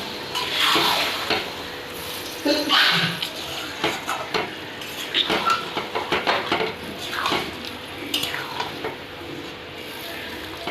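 Mutton cooked with yogurt and salt is stirred and mixed in a pan, giving repeated scraping and clinking strokes of a utensil against metal over a soft, steady background sizzle, close and fairly loud.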